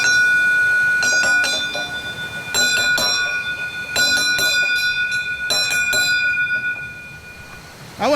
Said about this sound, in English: Here's another bear bell.